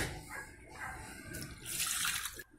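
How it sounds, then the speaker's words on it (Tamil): Water is poured from a pot into fish curry (kuzhambu) being made in a home kitchen, a short splashing pour that swells into a louder bright rush before stopping abruptly, close and unaccompanied by talk. "ரெண்டு சொம்பு தண்ணி வந்து சேர்த்திருக்கோம்."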